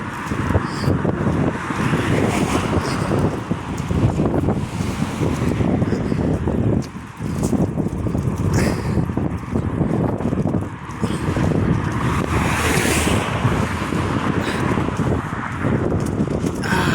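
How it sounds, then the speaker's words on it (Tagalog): Strong wind blowing over a microphone during an afternoon walk to a Morrisons supermarket in the UK, a loud continuous rumbling buffet with gusty surges across the whole stretch, no talk. "Taas ang hangin."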